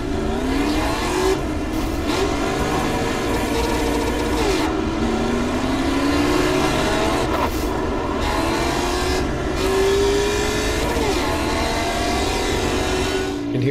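An American Muscle Series race car in the iRacing video game heard from the in-car view at full speed, a loud continuous engine roar with rising pitch sweeps through gear changes and brief lifts, no talk.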